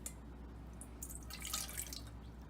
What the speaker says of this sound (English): So we're gonna pour the orange juice in there.